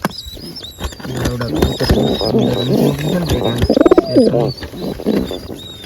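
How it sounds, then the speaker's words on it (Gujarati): Pigeons, some dyed with colour and with a chick, coo and call close by in a steady stream, with a few faint voices in the background. "આમાં છે કલરિંગ કબૂતર જેને આપણે રંગ લગાડ્યો છે"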